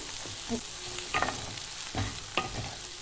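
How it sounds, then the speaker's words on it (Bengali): Egg frying in a pan for dhaba-style egg tadka, stirred with a spatula. A soft, steady sizzle runs under several light scraping strokes. "ডিমটা ভাজা হয়ে যাবে।"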